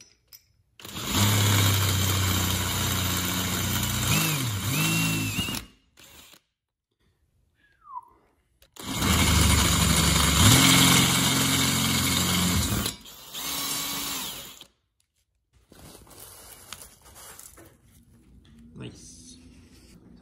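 A power drill with a 1/8 inch bit bores a pilot hole for a C5 Corvette seat bracket in two loud, close, sustained runs of several seconds each, separated by silence and followed by quieter handling noise.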